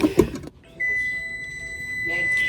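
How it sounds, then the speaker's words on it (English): A kitchen timer sounds a steady, sustained electronic beep while skillet pork chops cook, following a brief clatter, with a faint voice in the background. "my timer done went off"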